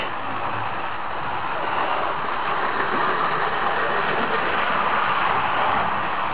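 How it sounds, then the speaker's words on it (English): A Bachmann HO scale Flying Scot model train from the mid-1980s, freshly oiled, runs on its track with a steady, even hum and whir that continues without a break, close and fairly loud. "Again, this track really will hum around the track."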